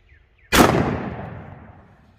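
A shotgun loaded with birdshot and fitted with an open cylinder choke fires once at a block 20 feet away, a single loud blast that rings out and decays slowly.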